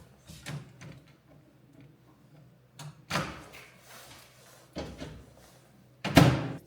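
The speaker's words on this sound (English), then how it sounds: "I'm going to put it in the microwave." A microwave door for heating lasagna clicks and thumps as it opens and shuts, several short bangs spread across the span, the last one loudest, with quiet room tone between.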